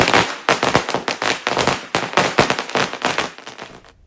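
Strings of firecrackers going off outdoors at a street celebration, loud rapid bursts in dense irregular clusters for several seconds, then fading to quiet at the end.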